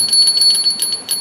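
A small hand bell rung slowly, its bright ringing strikes spaced out in an unhurried, even rhythm, close and clear with no other sound.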